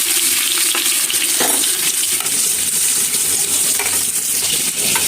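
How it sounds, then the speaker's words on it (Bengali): Onions frying in a pan give a loud, dense, continuous sizzle, with occasional clinks and stirring scrapes throughout. "পেঁয়াজগুলো ভাজা ভাজা হয়ে গিয়েছে"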